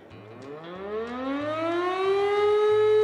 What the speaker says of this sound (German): einfach hier eine Sirene, um eine Sirene anzuschalten